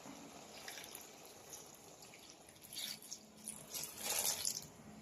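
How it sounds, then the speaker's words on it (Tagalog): Coconut milk is poured into a pot of vegetables with string beans, okra and eggplant, making a soft continuous liquid trickle that grows splashier and louder toward the end. "Lagay na rin po natin ang gata."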